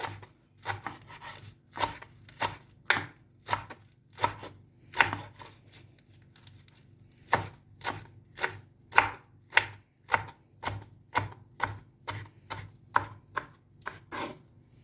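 A knife slices lettuce thinly on a board for a Turkish shepherd salad, giving a fast, steady series of crisp close chops with a brief pause midway.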